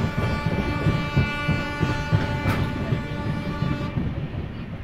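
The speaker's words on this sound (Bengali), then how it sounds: "হাওড়া দীঘা তাম্রলিপ্ত এক্সপ্রেস যাচ্ছে এখন করে" The Howrah–Digha Tamralipta Express runs past with a continuous heavy rumble and rhythmic rail clatter, a sustained tonal hum riding over it before fading slightly near the end.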